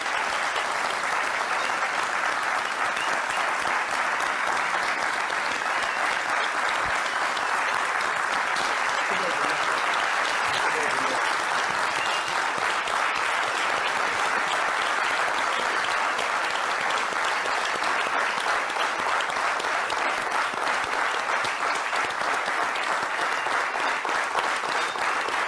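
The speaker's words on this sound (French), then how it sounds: "la minute de silence se transforme en minute d'applaudissement pour" A crowd keeps up sustained, dense applause in tribute to a late artist, an unbroken even wash of clapping that holds steady throughout and stays loud and close.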